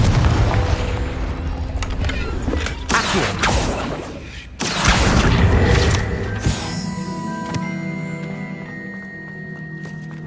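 A Confringo fire spell blasts in the Hogwarts Legacy game, a loud booming explosion with crackling debris and mechanical clatter, followed by a lingering rumble and ringing tones as the blast fades.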